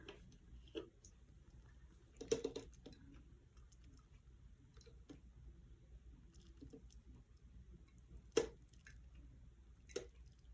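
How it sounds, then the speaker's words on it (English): Tea infuser lifted out of a teapot and left to drain, giving a few soft drips and small wet clicks spaced out over quiet background hiss, close and faint. "I'm going to pull the infuser out, making sure that it drains really good."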